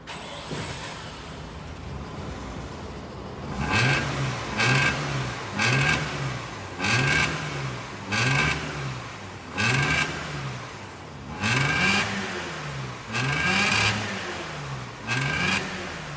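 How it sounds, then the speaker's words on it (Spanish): A Mazda MX6 car engine idles, then is revved in about eight short, evenly spaced bursts, each rising and falling in pitch, loud and close, with no talk over it. "vamos a prender la nave"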